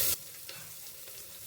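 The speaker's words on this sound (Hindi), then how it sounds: "कुकिंग ऑयल डाला, और उसमें डालेंगे 2 ग्रीन कार्डमम्स यानी कि इलायची के साथ साथ क्लोव्स" Green cardamom pods and cloves fry in about two tablespoons of hot cooking oil in a pressure cooker, giving a steady, soft sizzle after a brief louder burst at the start.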